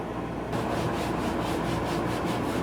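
Rubbing a floor with Goo Off acetone remover, a rough scrubbing sound that starts abruptly, then runs in steady rhythmic back-and-forth strokes, loud and close, with no talking.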